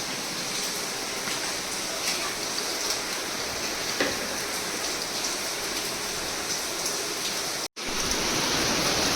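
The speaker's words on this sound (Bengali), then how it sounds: "বৃষ্টি ক্রমশ বেড়ে যাচ্ছে" Heavy cloudburst rain pours steadily in a dense, loud, unbroken hiss that briefly cuts out before resuming, with no talk over it.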